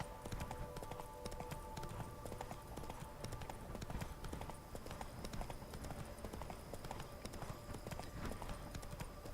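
Horse hooves clip-clop steadily while riding through countryside at night in the video game The Witcher 3: The Wild Hunt, a continuous rhythmic trot under ambient game sound.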